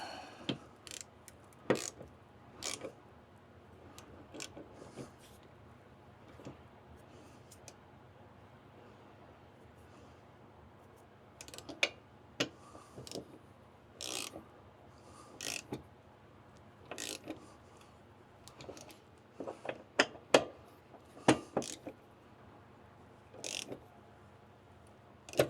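A ratchet wrench tightens a bolt on the door of a GMC 2500HD pickup, giving scattered bursts of sharp clicks and mechanical ticks spread across the stretch, close and fairly quiet against a low background hum.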